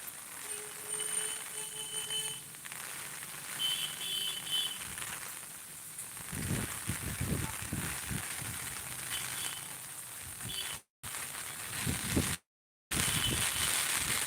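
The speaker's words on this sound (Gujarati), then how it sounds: "પવન સાથે વરસાદ" Heavy rain falls with wind in Akala village, a steady close hiss. Low, rough gusts of wind swell through the middle, and two brief dropouts break the sound near the end.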